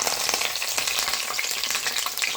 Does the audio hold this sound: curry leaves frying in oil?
yes